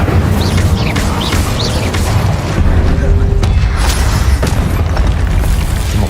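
A fire spell cast in the game Hogwarts Legacy gives dense booming, crackling bursts with a couple of sharper hits, layered over continuous game sound and noise.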